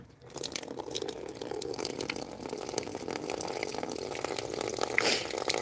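Water poured from a tank onto thirsty garden plants, a steady, close splashing and gushing that swells slightly toward the end, with no talking.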